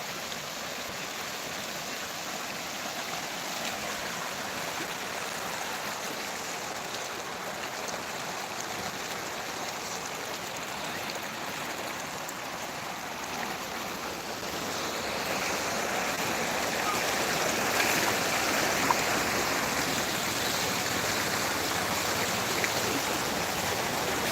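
Water rushes steadily in a continuous broadband roar, flowing and falling nearby, growing somewhat louder midway through and carrying on without a break.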